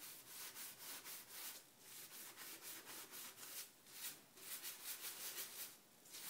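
A sponge scrubs a dirty surface being cleaned with cola, giving steady, rhythmic rubbing strokes that repeat close and fairly loud throughout, with no talk over them.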